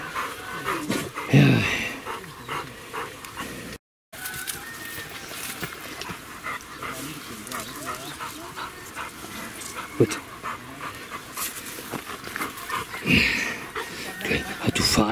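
A Rottweiler pants steadily and whimpers up close throughout, while a person talks in German over the breathing.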